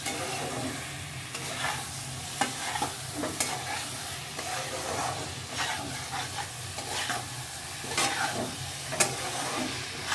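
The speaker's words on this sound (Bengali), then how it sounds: "ফুলকপি আলু ভেজে রেখেছি সেগুলো দিয়ে দিচ্ছি দু মিনিট কষিয়ে গরম জল দিয়ে দেবো" Fried cauliflower and potatoes being stir-fried in a pan, a dense continuous loud sizzle with frequent scraping spatula strokes throughout, close up and without speech.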